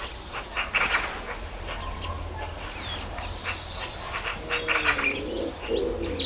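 Wild birds chirp and tweet around a garden while pigeons coo low underneath, scattered calls coming and going over a soft outdoor background.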